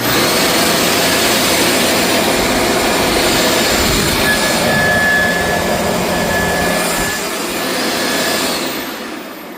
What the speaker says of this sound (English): let's turn this thing on,